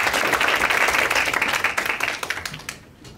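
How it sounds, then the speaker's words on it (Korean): A lecture audience at a Korean medical specialty fair gives loud, dense applause to welcome a rehabilitation medicine specialist, and the clapping tapers off and fades away near the end. "많은 박수 부탁드리겠습니다"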